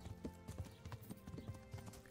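Horse hooves clip-clopping at a steady trotting rhythm while riding in the video game Kingdom Come: Deliverance, a close, regular series of soft thuds, fairly quiet overall.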